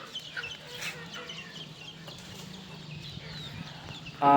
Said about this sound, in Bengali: এখন যেহেতু সন্ধ্যার টাইম আমার মুরগিগুলা কিছু ঢুকছে